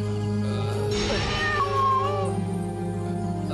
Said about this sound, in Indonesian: cuma ada kucing hitam di depan pintu